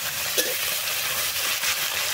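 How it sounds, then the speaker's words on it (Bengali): Shrimp, puti and bele fish fry in hot oil, a steady loud sizzle with bubbling crackle close up, uninterrupted by talk. "তেলে তো ধোয়া বেরিয়ে গেল, কখন ছাড়বে মাছ? এই তো এখনই ছাড়বো মাছগুলো"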